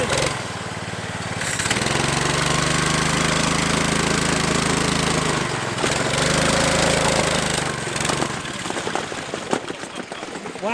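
A modified Barbie Jeep ride-on toy drives off with a loud, steady buzzing motor that holds for several seconds, dips briefly, surges again, then fades near the end.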